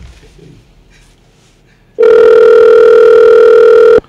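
A single long telephone ring tone from an overseas call sounds loudly on a radio call-in line, a steady buzzing burst lasting about two seconds after faint background noise.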